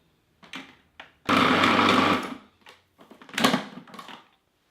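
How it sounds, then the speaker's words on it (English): A food processor blitzes butter into flour for apple pie pastry crumbs in short pulsed bursts, one long roaring run of about a second flanked by briefer whirs. "we're going to give that a little blitz in the food processor now until all those ingredients resemble a fine crumb"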